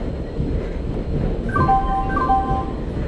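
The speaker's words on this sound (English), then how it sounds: "Goods Express is arriving at platform number 3." Goods Express train rolling into a station platform in Indian Train Simulator, a rumbling rail noise with a rising horn-like two-tone signal sounding twice near the end, loud and close.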